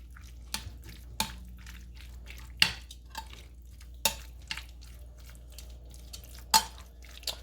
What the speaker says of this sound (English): So you just want to try to get the soy sauce and the cornstarch on each of the pieces.